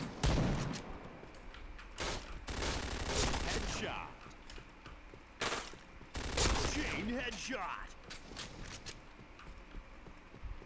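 Gunfire from the online shooter Point Blank, with sharp shots in bursts and quick volleys throughout, mixed with game sound effects at close range.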